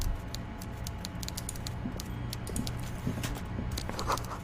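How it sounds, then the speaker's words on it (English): Rapid, irregular typewriter key clacks from an office in the Disco Elysium video game, a steady run of light ticking strikes over a low ambient hum, fairly close and moderate in level with no voices. "I hear like a typewriter."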